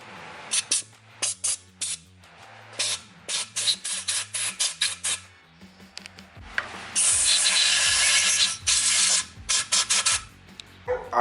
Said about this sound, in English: I had to come spray it out and clean out all this aluminum.